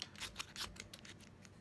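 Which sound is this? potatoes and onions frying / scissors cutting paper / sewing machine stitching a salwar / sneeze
scissors cutting paper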